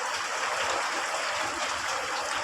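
Heavy afternoon rain falls as a steady, loud broadband hiss, continuous and even throughout with no gaps and no voices.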